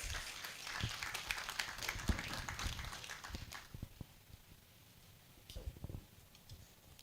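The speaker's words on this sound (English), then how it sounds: "Kindly give him a round of applause" Audience applause in a hall at a regional investment forum: dense clapping for about four seconds, then thinning to a few scattered claps before fading.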